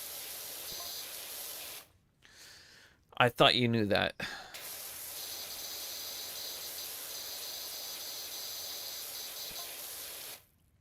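Pressure washer spray guns in PowerWash Simulator 2 give a constant loud hiss that drops out for a short stretch while someone speaks, then resumes evenly and runs until it cuts off near the end.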